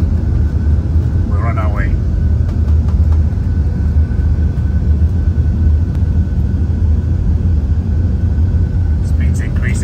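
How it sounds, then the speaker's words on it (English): Boeing 747-8 jet engines at takeoff thrust make a loud, steady roar that fills the cabin from start to finish, with a brief spoken voice over it. "Engines wind up. Stabilized. Toga. Thrust goes up."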